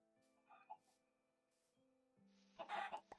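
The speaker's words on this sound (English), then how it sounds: "But where's that chicken?" Chicken clucking in Minecraft, a few soft clucks early on, then a louder, busier burst of game noise near the end over a steady background tone.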